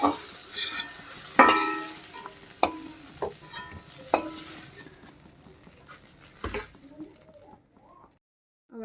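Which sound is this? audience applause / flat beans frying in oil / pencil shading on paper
flat beans frying in oil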